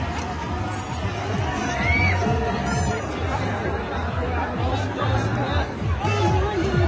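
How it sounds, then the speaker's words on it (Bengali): A dense crowd at a trade fair in Bels Park, loud continuous chatter and babble of many voices close around, with occasional louder shouts rising above the hubbub. "প্রচুর লোকের ভিড় এই বেলস পার্কে আজকে"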